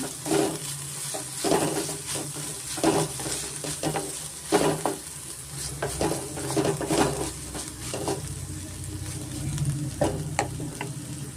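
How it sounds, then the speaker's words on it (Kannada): Ginger garlic paste frying in a pan, a steady close sizzle broken by repeated spoon scrapes and clinks against the metal as it is stirred, no voices. "ಸ್ವಲ್ಪ ನಾವು ಫ್ರೈ ಮಾಡ್ಕೊಳ್ಳೋಣ"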